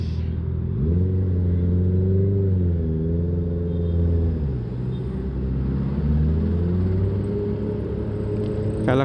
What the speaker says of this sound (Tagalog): Dito medyo may traffic na. Medyo heavy na dito.